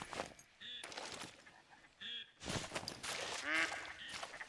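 Ducks quack in a hunting video game, a few short nasal calls rising over steady rushing background noise while someone talks.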